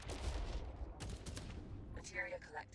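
Rapid gunfire from the video game Jump Ship, dense bursts of shots with explosive impacts layered over game effects, loud and continuous through the moment.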